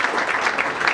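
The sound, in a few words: audience applause during award presentation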